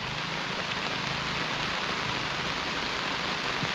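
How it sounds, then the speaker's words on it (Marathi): Steady rain falls over a rural Konkan paddy field, a dense, even hiss that fills the whole stretch with no voices. "आणि पाऊस इलो आणि पाटाचं पाणी पण आज भरपूर आहे."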